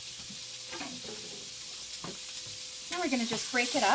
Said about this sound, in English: So I'm just going to go ahead and slide that pork in.